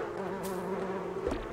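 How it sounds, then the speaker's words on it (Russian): Bees buzzing in the Donut County video game make a steady, droning hum with a wavering pitch, close and continuous across the short moment. "Все, теперь можно с дымарем собирать пчел"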